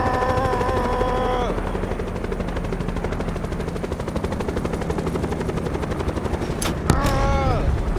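Helicopters roar in Black Ops 4 Blackout, with a whining rotor tone at the start and end and dense bursts of rapid gunfire running steadily throughout, loud and close.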